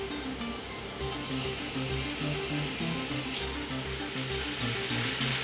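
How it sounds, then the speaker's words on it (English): Onions sautéing in a generous amount of canola oil over medium-high heat, a steady, loud sizzle and crackle running continuously throughout with no talking. "While these are sauteing"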